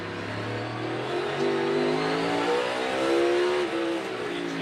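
A NASCAR race car engine revs and surges on a track at the Busch Light Clash at the Coliseum practice session, pitch climbing and falling with throttle inputs in a steady, loud drone that holds for several seconds.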